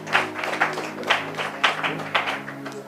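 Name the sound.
congregation applauding to acclaim the Lord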